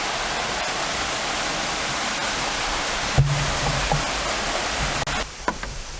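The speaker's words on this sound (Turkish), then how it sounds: "Onlara nazaran hani şelale denmez küçük bir akıntıdır bu" A small waterfall, more of a modest stream than a true cascade, at a crowded tourist spot, pouring in a steady, close rush of water throughout, with a few brief knocks and bumps toward the end.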